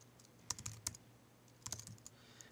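Clicky keystrokes on a computer keyboard, a short burst of several taps followed by a pause and a few more, close and quiet with no talking.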